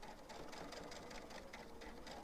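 A sewing machine stitching fabric for a protective face mask, giving a quick rhythmic run of needle strokes that sounds close and steady.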